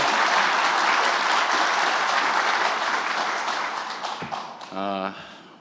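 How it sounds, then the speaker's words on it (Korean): Strong applause from citizens at a presidential event at Yeongbingwan in Korea fills the room, then gradually thins and fades, with a voice briefly speaking near the end. "영빈관에서 진행했던 어떤 행사보다 박수 소리가 큰 것 같습니다"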